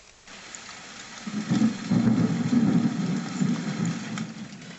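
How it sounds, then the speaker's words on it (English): A low, rolling rumble of thunder swells and lingers, with a steady wash of rain underneath, fairly loud and continuous. "The thunder rolls and the rain comes down in torrents."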